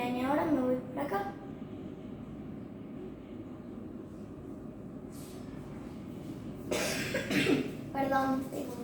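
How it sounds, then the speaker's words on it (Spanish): A person coughs in short bursts near the start and again near the end, with a faint steady background hum between them. "tengo mucha tos, ya se lo dije"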